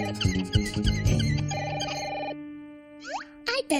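A cartoon telephone bell rings in short bursts amid background music and chatter in a school setting, then gives way to quieter sounds and brief voices near the end.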